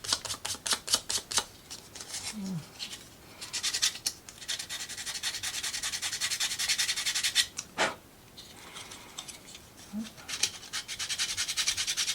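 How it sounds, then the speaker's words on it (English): Sandpaper rubs back and forth over primed 3D-printed parts of a mechanical butterfly, close rhythmic scratchy strokes in quick bursts with brief pauses. "so let's sandpaper"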